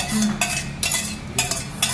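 A spoon scrapes and clinks against a pan as onions are stirred while frying for a potato curry, with repeated short metallic strokes over a steady low sizzle.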